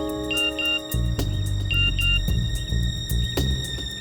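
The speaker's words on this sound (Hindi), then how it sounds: "फोन बजा।" A phone rings in a tense crime-drama standoff, its repeating electronic tone pattern sounding loud and close over a droning dramatic music bed, with no one talking.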